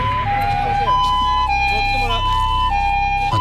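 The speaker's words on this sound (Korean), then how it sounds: "바닷가에 울리는 앰뷸런스 소리" An ambulance siren wails at the seaside, its two alternating tones cycling loud and close over a constant background rumble.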